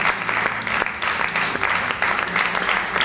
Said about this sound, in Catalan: Un aplaudiment per a aquestes persones